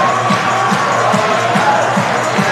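A home crowd roars steadily in Nicholson Arena late in a GNAC men's basketball championship semifinal, a dense, sustained cheer with faint rhythmic thumps pulsing underneath.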